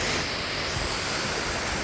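A waterfall at Thirparappu with low water flow sends a steady broadband rush of falling and flowing water, close and continuous, with no voices.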